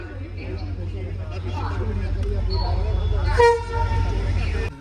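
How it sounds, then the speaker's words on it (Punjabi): A train horn blares briefly near the end as the train arrives, over steady low rumbling and station bustle, with voices chattering in the background. "ਆ ਗਈ ਆਪਣੀ ਟ੍ਰੇਨ ਬੇਸ਼ੱਕ ਥੋੜੀ ਜੀ ਲੇਟ ਹੋ ਗਈ"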